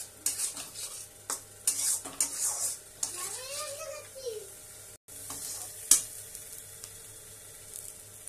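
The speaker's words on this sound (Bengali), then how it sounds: "কুচনো পেঁয়াজটা একটু ভাজা ভাজা করতে হবে।" Onions sizzling in a pan while a utensil scrapes and clinks against metal in short bursts; a brief voice-like tone rises and falls midway.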